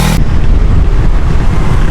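A lorry rolls past on a road in Bandar Manjalara, its engine rumble loud and steady throughout, with a brief sharp burst at the very start.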